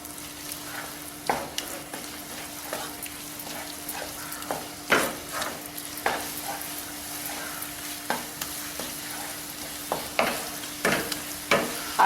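A foxtail millet dhokla mixture with grated coconut being stirred in a pan, with a faint sizzle beneath repeated scraping strokes that fall in a loose, uneven rhythm.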